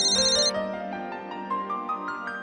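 An incoming-call ringtone on a telephone plays a bright electronic melody of repeated tones, steady and close, with no talking over it.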